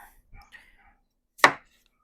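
A knife chops vegetables into pieces for a smoked pot roast, with a few soft light taps followed by one sharp, close cut through to the board, with no voices.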